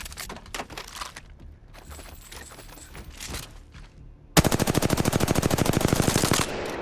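Flatline rifle in Apex Legends, a few scattered single shots followed by a long, loud, rapid full-auto burst lasting about two seconds, then the game's ambient hum.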